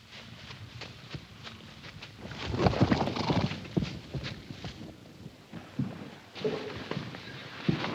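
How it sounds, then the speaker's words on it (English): A herd of horses stampeding in a wilderness setting, a loud jumble of clopping hooves with occasional neighs, swelling and fading as the animals pass nearby. "Damn them horses. Stampeded again."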